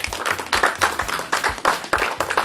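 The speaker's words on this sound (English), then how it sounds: "Can you please give the panel a clap?" A live audience at a speakers club event claps for a panel: dense, loud applause with a pulsing rhythm that runs throughout.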